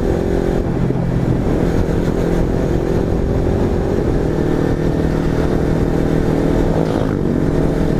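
A Kawasaki Ninja 300 motorcycle with a gutted, baffle-less exhaust runs loud and close, its raw engine roar holding steady for several seconds with slight rises in throttle.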